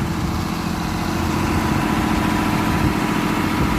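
A steady, droning engine driving a centrifugal water pump with a 4-inch outlet pipe runs continuously at close range, a low rumbling idle with a constant mechanical hum and no breaks.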